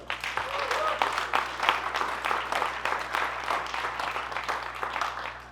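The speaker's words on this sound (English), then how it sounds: "let's have one last cheer and round of applause for the first custom large language model hackathon" A hackathon crowd for a custom large language model event claps and cheers in a continuous, moderately loud burst, with a voice rising briefly over the clapping near the start.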